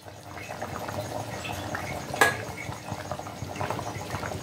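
A pot of green sundakkai kara kulambu bubbles and simmers on the stove, a soft steady burbling with one sharp clink midway.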